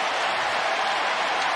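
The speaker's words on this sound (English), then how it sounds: "They're giving him a standing ovation, justifiably so." Basketball arena crowd giving LeBron James a standing ovation, a steady dense roar of applause and cheering that fills the whole stretch at an even level.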